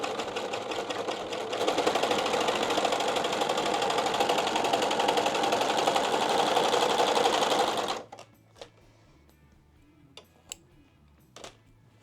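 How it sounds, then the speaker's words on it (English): A serger finishes the side seams of a pants pocket made as a single welt pocket. It whirs in a fast, steady, close run for about eight seconds, then stops, leaving a few faint clicks and handling sounds. "I'm going to go ahead and serge the sides of my pockets."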